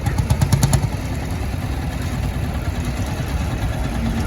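A small Leyland tractor, originally a BMC mini tractor, runs at a steady idle at an outdoor steam fair, with a few louder clattering pulses at the start before settling into a continuous engine chug.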